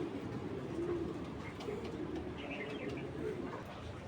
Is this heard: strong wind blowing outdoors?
no